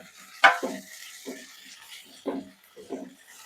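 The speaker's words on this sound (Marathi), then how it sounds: "आता जोपर्यंत हा टोमाटा गळत नाही तोपर्यंत आपल्याला भाजून घ्यायचा आहे" Tomato added to browned onion sizzles in a pan for kaleji fry. A utensil scrapes and clinks against the pan in a few separate stirring strokes, close and fairly loud.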